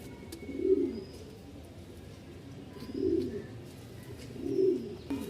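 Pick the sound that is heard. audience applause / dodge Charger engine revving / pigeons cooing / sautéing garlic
pigeons cooing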